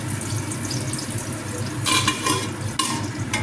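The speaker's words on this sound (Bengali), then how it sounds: "আর এদিকে ঢেঁড়স আলু ভাজা।" Okra and potatoes frying in a pan, a continuous sizzle with a couple of louder bursts of hissing and stirring near the end.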